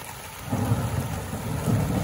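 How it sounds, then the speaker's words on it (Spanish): Rumbling thunder with steady rain during a storm, a low roll building from about halfway through and lasting to the end, with no voices. "Y está tronando, como escuchan."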